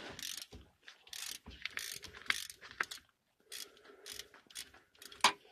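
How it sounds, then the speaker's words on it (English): A ratchet clicking in short bursts while loosening the fill plug on a 2005-2010 Jeep Grand Cherokee WK front differential, with close, crisp pawl ticks separated by brief pauses and no speech. "you can just use the ratchet."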